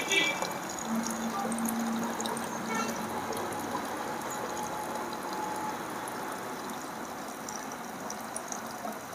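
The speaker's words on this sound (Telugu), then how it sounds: "ఇప్పుడు మనం ఏం చేయాలంటే వాటర్ని ఇలా పోసుకోవాలన్నమాట" Water is poured into a bottle already holding liver tonic and tetracycline powder, mixed as a drinking solution for chicks. It makes a steady, continuous pouring rush at moderate level for several seconds.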